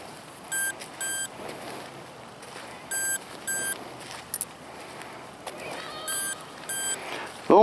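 An Amzdeal Smart Hunter metal detector gives short electronic beeps, often in pairs, at irregular intervals over faint outdoor background noise, with a brief louder rustle at the end.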